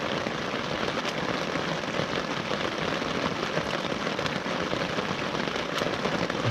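Torrential rain drums steadily on a tent at a campsite, a dense, loud, unbroken patter with occasional sharper drop hits, close and continuous throughout.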